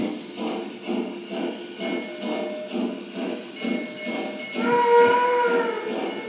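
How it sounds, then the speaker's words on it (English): Rhythmic chuffing of a small model train, then a sustained tonal whistle blast near the end, close and fairly loud. "the next thing you're going to have to learn how to do is blow the whistle"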